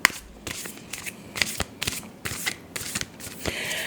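Tarot cards riffle and slap together in repeated bursts, a close, crisp shuffling of a deck with short pauses between each pass.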